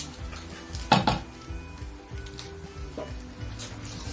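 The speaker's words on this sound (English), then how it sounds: "Just give it a mix." A spoon stirs a pot of spinach chicken with fresh coriander and chillies, giving a loud clank near the start and a softer knock later over low scraping and bubbling.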